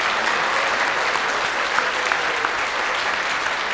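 Sustained, even applause from a large church congregation celebrating retiring members, thick and continuous for several seconds with no break.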